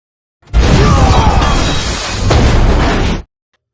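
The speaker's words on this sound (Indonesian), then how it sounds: "Namun tiba-tiba helikopter Suki meledak." A loud, roaring explosion bursts in suddenly, rumbles heavily for nearly three seconds with a slight dip midway, then cuts off to silence.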